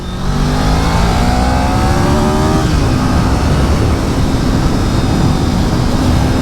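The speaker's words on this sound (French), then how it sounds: "Voilà donc le son du moteur." A 1988 Honda VFR 750 F RC24 motorcycle engine revs loud and close, its pitch climbing then falling back into a steady, rough idle, with no talking over it.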